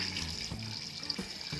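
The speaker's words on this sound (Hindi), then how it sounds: "ये 1 लीटर पानी डल गया" Water runs steadily into a cooking pot for Lahori-style mutton paya, a soft continuous faucet-like splashing and gurgle heard alone at low level.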